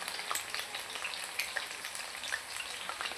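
Chicken pieces frying in a pan for a spicy chicken fry, a steady close crackling sizzle with scattered sharp pops of oil and no one talking.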